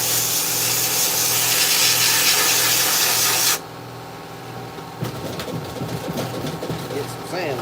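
A wooden knife handle being sanded, first with a loud, steady machine-driven abrasive whir that stops abruptly, then quieter scratchy rubbing, with someone speaking.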